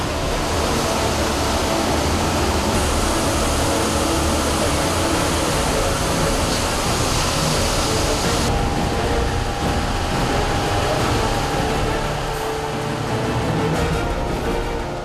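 Hot dye heated to 130 degrees Celsius boils and bubbles with foam in a dyeing factory vat, a loud, dense, continuous roar of churning liquid with no speech.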